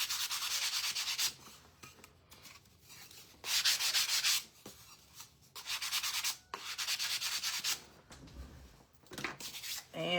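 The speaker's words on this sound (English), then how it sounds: "Just a quick sand." Hand sanding of a wooden tic tac toe board comes in several separate bursts of close, raspy scrubbing, with short quiet pauses between strokes.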